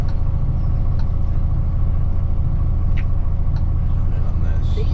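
An HGV truck engine idles steadily while it builds air pressure, a constant low diesel rumble with a few faint clicks and short hisses over it.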